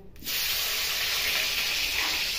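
Tomato hits hot oil in a pan, bursting into a loud, sudden sizzle that holds as a dense, steady hiss close by, with no voices.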